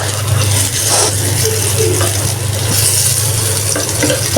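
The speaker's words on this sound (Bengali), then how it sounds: "এক এক করে বেগুনগুলো ভেজে নিচ্ছি" Eggplant slices fry in hot oil with a steady, dense sizzle and crackle, close and continuous, with a low hum of a kitchen fan or burner underneath.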